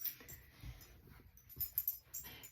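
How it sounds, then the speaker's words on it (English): A dog whimpers and wheezes indoors in short, faint breathy bursts, with soft whines coming and going at low volume. "Oh, my dog's wanting to make an appearance here."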